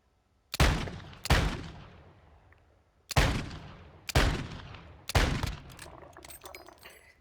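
Five heavy, booming single shots fired in Call of Duty Warzone 2. Each sharp blast decays with a long tail, irregularly spaced: two close together, a pause, then three in quicker succession.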